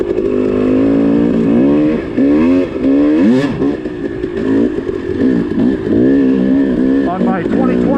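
A 2020 Husqvarna 300 TDI two-stroke dirt bike rides a dry, dusty pumice trail in Gifford Pinchot Forest, its engine loud and close, revving up and down in repeated rising and falling surges with some clatter.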